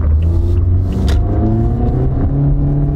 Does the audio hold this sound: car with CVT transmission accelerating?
yes